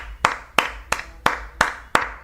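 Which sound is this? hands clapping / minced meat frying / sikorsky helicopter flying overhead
hands clapping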